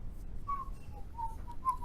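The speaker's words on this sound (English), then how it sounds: "Why are you whistling?" A person whistles a few short, soft notes, faint and breathy over low background rumble, with uneven pauses between the tones.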